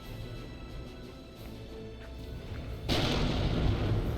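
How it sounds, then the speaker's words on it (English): Distant rumbling battle noise in Warhammer 40K Dawn of War 2, then a Manticore rocket launcher fires missiles with a sudden loud, sustained roaring whoosh. "Another Manticore here, recently launching missiles, probably up here somewhere to the north."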